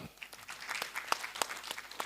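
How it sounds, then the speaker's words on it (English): Scattered, light clapping from a summit audience after being told to applaud themselves, individual claps spaced out and faint against a soft room background. "Give yourselves a big clap."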